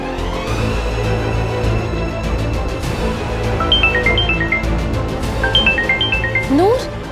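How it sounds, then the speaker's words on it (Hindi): A phone rings with repeated electronic ringtone chimes at moderate volume, partly under people talking in Hindi in a cartoon-like scene. "नूर, तेरा फोन"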